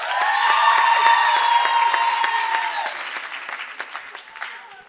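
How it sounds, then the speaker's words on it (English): A crowd at a young entrepreneurs' program claps for itself, starting loud and dense over faint background tones, then thinning and fading toward the end. "And then can you give yourselves a round of applause?"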